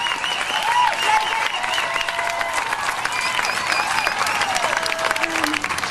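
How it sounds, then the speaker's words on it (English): A crowd at a Perth March Against Monsanto rally applauds, with steady, dense clapping and some cheering and shouts that carry on for the whole stretch. "Let's give her 3 rounds of applause."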